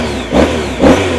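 Revving from a 2012 Honda ST1300 Pan European touring motorcycle, two short throttle blips rising over a steady, close engine idle.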